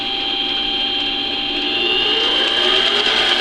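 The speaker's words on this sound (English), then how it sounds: "turn the knob and the lathe is operating" A Harbor Freight 7x10 mini lathe runs steadily, a close, continuous motor whine with a high tonal hum that rises slightly in level as it settles into speed.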